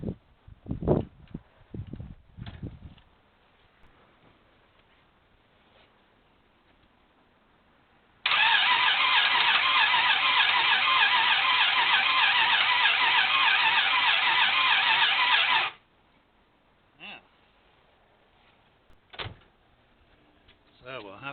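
A Rover P6 engine cranks and catches, running steadily and loudly for several seconds before cutting off, with scattered knocks and clatter before and after.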